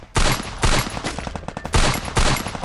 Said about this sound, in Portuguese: Tem outro cara atirando.